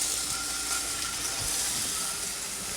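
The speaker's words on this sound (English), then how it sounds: "You can hear it sizzle, but you probably can't see it." Steady broadband hiss and crackle of sausage sizzling in a hot cast iron skillet, continuous and close, with a small clunk at the very end.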